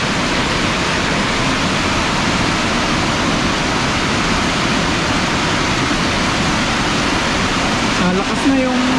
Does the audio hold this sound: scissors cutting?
no